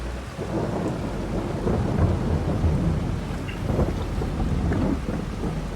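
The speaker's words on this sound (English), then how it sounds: "And it is thunder and lightning where we are." A thunderstorm in a farming game: steady heavy rain hisses throughout while low thunder rumbles roll in and out, loud and continuous with no voices.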